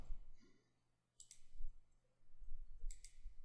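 A computer mouse gives two quick pairs of soft, close clicks, one around the middle and one near the end, over a low hum with no talk.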